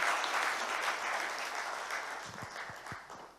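Audience clapping at a daylong corporate event on corrosion risk management: a dense burst of applause that starts full and gradually thins and fades over a few seconds, with a few louder scattered claps near the end.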